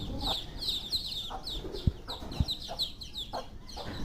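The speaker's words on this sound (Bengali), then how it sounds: "এখন দেখেন আমরা মুরগি সবগুলো ছেড়ে দিছি" Chickens released from their coop on a small home farm cluck in short, repeated calls nearby, with a couple of soft thuds under the busy clucking of the flock.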